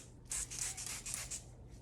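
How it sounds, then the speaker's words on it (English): Water spritzed from a spray bottle onto a thin board of mandolin side wood, several short close hissing bursts in a quick row, then a pause. "I'll just pick the side I want and I'll just spray."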